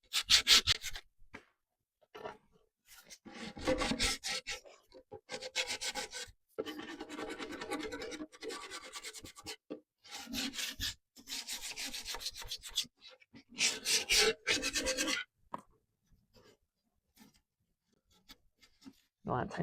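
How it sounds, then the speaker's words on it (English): A wooden piece is sanded by hand in short, rhythmic rubbing strokes. Close, scratchy bursts come in clusters with brief pauses between them; the piece is old, neglected furniture being restored with milk paint. "there's always those spots you have to go back in and hand sand"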